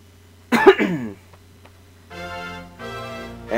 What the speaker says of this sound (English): I had to cough right there.